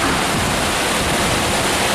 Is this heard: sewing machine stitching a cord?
no